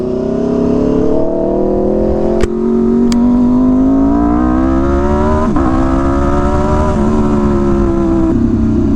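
An Aprilia superbike motorcycle ridden on the road, its engine note loud, close and steady throughout, pitch rising and falling gently with throttle and gear changes, a couple of brief clicks near the start.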